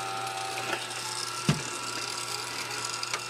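A label maker prints a chain-print label with a faint steady mechanical whirr and soft ratcheting clicks, plus one brief louder click midway.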